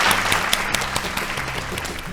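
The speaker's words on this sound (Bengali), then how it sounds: "জোরে হাততালি" Loud, dense applause from a studio audience at a Bengali family game show, steady clapping for the full two seconds with faint music or tones beneath.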